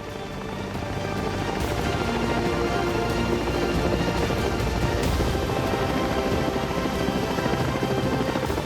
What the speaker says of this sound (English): everyone in the valley can hear the helicopter